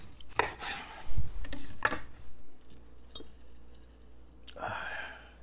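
A knife cuts through a lemon on a board, a few distinct slicing strokes with crisp scraping, close by, with soft handling noises between cuts.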